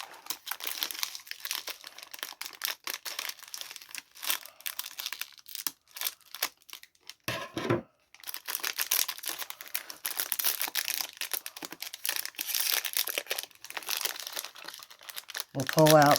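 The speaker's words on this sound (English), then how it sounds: "I'm just going to cut it here at this end" Plastic wrapping on a taped craft-supply package crinkles and rustles almost constantly as it is handled and cut open, close and fairly loud, with a short pause midway and a sharper rustle at the end.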